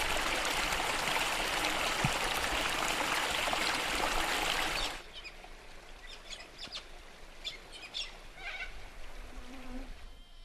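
A rushing creek dominates at first, then drops away to reveal scattered bird chirps and calls in a quieter outdoor setting.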